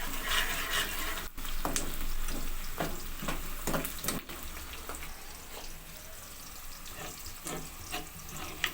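Onions sizzle and crackle steadily in a hot pan while being cooked for a mutton dish, with occasional sharp taps and stirring clatters over a continuous frying hiss.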